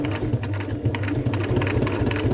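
A sewing machine runs a strengthening stitch along a Panacea 2 tent seam under repair, a steady, rapid mechanical whir heard close up with no other sounds.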